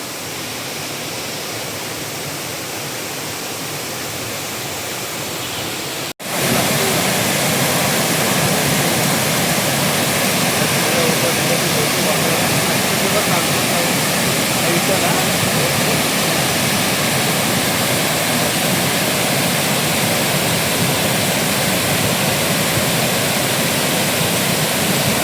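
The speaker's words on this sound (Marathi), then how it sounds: "चंद्रनगर धबधबा." The Chandranagar waterfall roars as a loud, continuous broadband rush; after a brief dip a few seconds in, it swells even louder and holds steady for the rest of the stretch.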